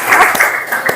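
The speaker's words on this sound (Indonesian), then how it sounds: "beri tepuk tangan lagi" Applause from a classroom audience during a teaching session on computational thinking: a brief, steady burst of many hands clapping at moderate volume, with no clear speech over it.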